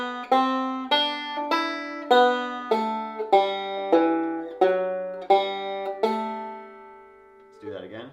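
Bluegrass banjo plays the melody of God Rest Ye Merry Gentlemen slowly in a beginner lesson, about a dozen clear plucked notes ringing in a steady rhythm, the last one sustained before a short voice enters at the end.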